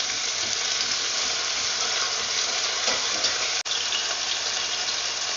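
Tomato sizzles and hisses steadily in a hot frying pan while being stirred for chicken adobo, a dense, even frying noise with no talking.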